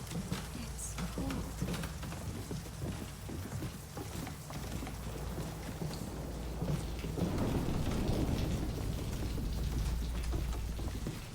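Rain in the Fatal Frame 2 Crimson Butterfly remake, a steady hiss of falling water with low rumbling that swells louder toward the end.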